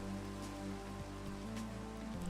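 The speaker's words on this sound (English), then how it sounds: "Dang it, it's raining." Steady Minecraft rain patters as continuous, even hiss with faint droplet ticks, quiet and unbroken over a low game-music drone.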